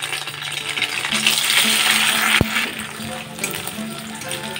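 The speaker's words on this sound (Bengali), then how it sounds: "এইবার পনিরগুলোকে একদম হালকা করে ভেজে নেব।" Paneer pieces lightly frying in sunflower oil with ghee in a pan, a dense steady close sizzle with occasional rattles and one sharp metallic tap partway through.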